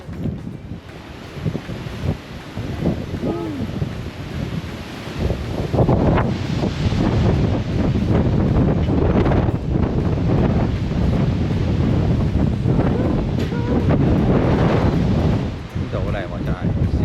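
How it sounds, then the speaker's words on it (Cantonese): Strong wind roars across the microphone at a gorge viewpoint, a loud continuous buffeting rush that swells and persists throughout, with a few faint voices underneath. "好大風喎出邊"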